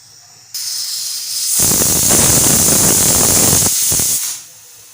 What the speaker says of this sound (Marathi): आपली एक शिटी झालेली आहे